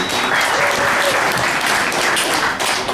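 Sustained audience applause at a poker tournament final table as a player is introduced, dense steady clapping throughout at even loudness.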